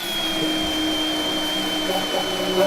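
High, steady whine of a grinder cutting welds off rusted bolts on a 1971 Blazer, a continuous loud tool drone with a slight lift in intensity near the end.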